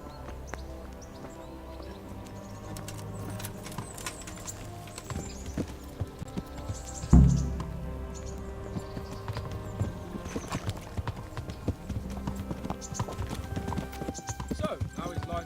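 Horse hooves clip-clopping steadily in Kingdom Come: Deliverance, a continuous rhythmic trot over ambient outdoor sound, with one louder thump midway and talk running alongside.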